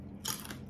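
One brief crisp crunch of a bite into boneless dried fish eaten with daikon radish, close and fairly quiet, alone without talk.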